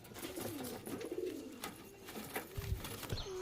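Pigeons in a loft give soft, rolling coos, several low throaty calls in a row. They are faint and at middle distance, with light rustling and bumps around them.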